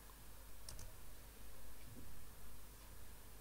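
Faint, scattered key presses on a computer keyboard during a MySQL 8 install on Ubuntu 18.04: a few soft clicks over a quiet background hiss, with no speech.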